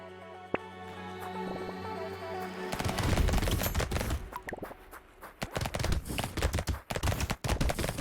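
Rapid SMG gunfire in the video game Brotato, dense crackling bursts of quick shots that start after a quiet tonal stretch and keep firing irregularly to the end.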